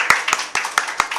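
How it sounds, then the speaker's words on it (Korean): A church congregation claps together to welcome visitors at a Sunday service, a short burst of rhythmic, evenly spaced hand claps, close and fairly loud. "우리 박수로 환영하겠습니다."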